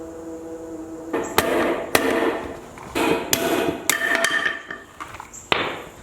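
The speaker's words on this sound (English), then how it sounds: "The hammer went ahead and knocked it out of there." Hammer blows knocking a ball joint out of a Polaris RZR, about eight sharp metallic strikes at an uneven pace, each with a brief ringing decay, close and loud in a quiet shop.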